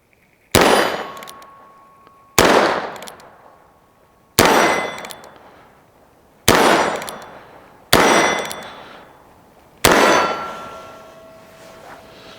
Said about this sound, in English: I got some steel targets from shootsteel.com set up at about 15 yards, and we're just gonna load it up and have some fun.